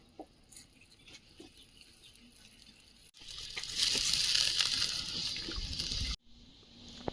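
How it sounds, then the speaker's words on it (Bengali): Boiling hot water poured into a pot of fried taro over a clay stove outdoors, a steady splashing gush that fills the middle stretch after quieter rustling and stops abruptly. "এবার ফুটন্ত গরম জল দিয়ে দেবো"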